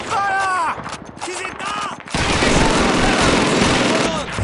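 Heavy WWII battle gunfire erupts at the Crossroads near Caen in Call of Duty 2. Loud, dense volleys of rifle and machine-gun shots roar in the second half after a stretch of shouting soldiers and scattered shots.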